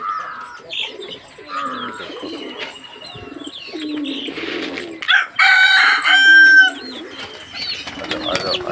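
Pigeons cooing inside a farm coop, close and clear, with repeated soft coos mixed with chirps and fluttery calls from several birds, no talking.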